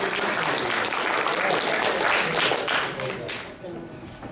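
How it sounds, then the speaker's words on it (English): A crowd applauds at the closing ceremony of a pony expo, with dense, continuous clapping that holds steady before thinning out toward the end. "Round of applause one more time for our amazing charity."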